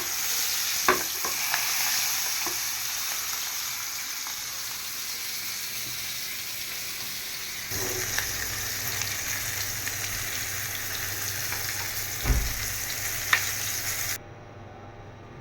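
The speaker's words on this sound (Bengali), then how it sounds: "ইলিশ মাছটা ভাজবো সাথে আছে আলু ভাজি ডিম ভাজা তো আগে মাছটা ভাজা হোক" Spice-rubbed hilsa fish fries in oil with a continuous close sizzle and hiss, occasional sharp pops and utensil clinks, and the frying grows louder midway before cutting off at the end.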